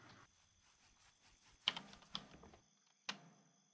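Someone types a search on a computer keyboard during a game of Unturned. A quiet patter of key taps runs under a few sharper, louder clicks.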